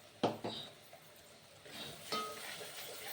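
Masala paste sautéing in oil in a pot for Kolhapuri mutton tambda rassa, with a faint sizzle under a few sharp scrapes and clinks of a spoon stirring against the metal, quiet and close.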